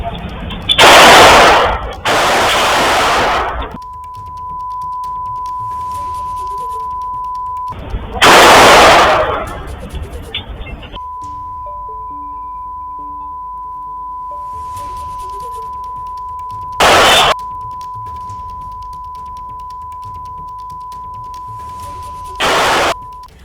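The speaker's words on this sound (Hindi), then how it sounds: "क्लब के बाहर बदमाशों ने गोलियां चला दी" Several loud, sharp bursts of gunfire are fired into the air outside a club in Delhi's Seemapuri area. The volleys come in separate clusters, with a steady electronic tone and street noise between them.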